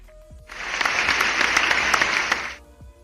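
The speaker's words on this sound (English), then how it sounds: "Everyone's gonna hear some clapping as I recalibrate everything from scratch." Quick run of hand claps from someone recalibrating VR body tracking in VRChat, a burst of sharp, close, rapid claps lasting about two seconds before stopping.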